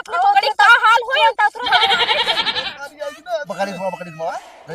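A goat lets out one loud, quavering bleat lasting about a second, surrounded by animated close-up talk.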